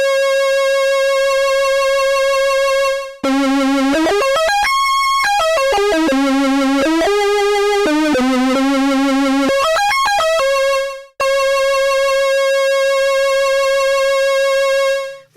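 A loud, bright electronic tone from an ARP Odyssey synthesizer oscillator, its pitch modulated by the LFO, wobbles and sweeps, stepping up and down in a repeating pattern, with brief silent breaks between phrases.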